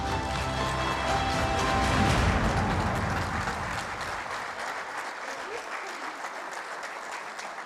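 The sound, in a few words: audience applause at Enactus Tunisia event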